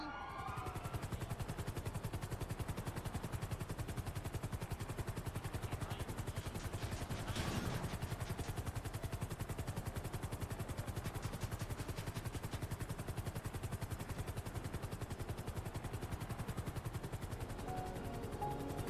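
Video game helicopter drones with a continuous, fast rotor chop for the whole stretch, steady and fairly loud, with a brief burst of gunfire or impact noise partway through.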